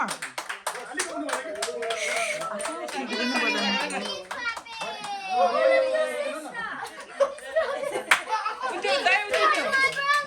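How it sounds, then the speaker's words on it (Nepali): Crowd of people clapping and cheering at a promotion celebration, steady applause with children's voices and chatter mixed throughout, loud and close. "ताली ताली तालीको कमी हुनु भएन"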